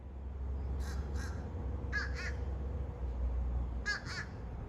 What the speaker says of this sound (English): One bird goes quack, quack, and then the other one answers back.